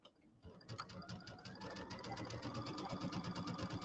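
A sewing machine stitches a quilt border on a table topper, its needle hammering in a fast, steady rhythm that starts after a brief pause and runs continuously, close and alone.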